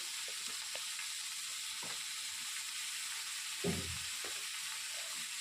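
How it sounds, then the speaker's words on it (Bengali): Sliced potatoes and onions frying in a pan, a steady soft sizzle with a few brief stirring scrapes and one louder clatter near the end. "একটু ভেজে নিয়ে সেদ্ধ বসিয়ে দেবো"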